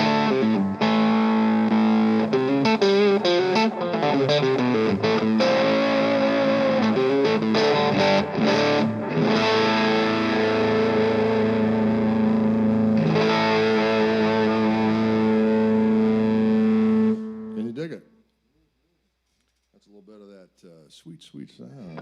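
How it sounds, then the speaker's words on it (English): Electric guitar fitted with new Fishman pickups, played through a heavily distorted amp tone: sustained chords and riffs ring loud and continuous, then cut off abruptly near the end with a brief trailing note. "I did new pickups with Fishman with this guitar."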